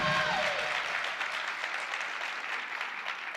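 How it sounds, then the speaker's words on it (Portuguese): Steady audience applause from a crowd at a talk in São Paulo, an even wash of clapping heard at moderate distance after a brief tone at the start. "Uma salva de palmas por causa disso."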